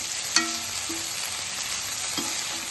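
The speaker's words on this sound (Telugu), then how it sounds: "వేయించుకొని మనం కొత్తిమీర కూడా వేసుకుందాం కొత్తిమీర వేసి కలుపుకుందాం" Dragon chicken fries with coriander being stirred in, making a steady loud hiss and crackle throughout, with a couple of brief metallic scrapes from the spatula against the pan.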